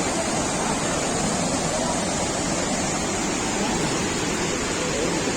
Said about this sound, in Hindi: ये गौरीकुंड से बाहर निकलते ही पहला झरना और मंदाकिनी रिवर